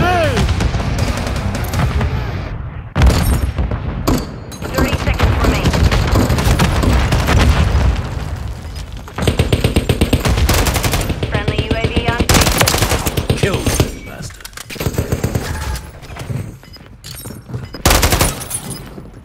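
Rapid automatic gunfire and heavy booms from a grenade in Call of Duty Modern Warfare III, loud bursts crackling almost without pause, with shouted voices cutting in between volleys.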